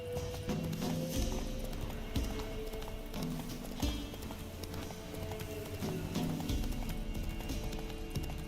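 Roach the horse in a video game gallops with a continuous clip-clop of hooves over a rumbling background, the hoofbeats fairly close and rhythmic, with little clear neighing.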